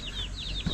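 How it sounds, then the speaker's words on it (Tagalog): Backyard chickens kept together with ducks cluck softly in a few quick, repeated notes, close by and faint over a steady outdoor background, with no talking. "At yung mga manok natin at Bibi nagsama-sama dito"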